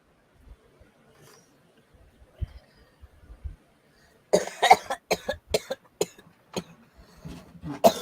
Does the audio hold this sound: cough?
yes